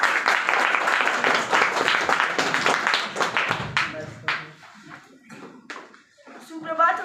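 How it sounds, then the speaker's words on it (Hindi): Students applaud a Class 9 boy walking onto the stage at a school Hindi Day event, loud dense clapping that thins into scattered claps and fades as a voice begins. "तो आइए तालियों से स्वागत करें।"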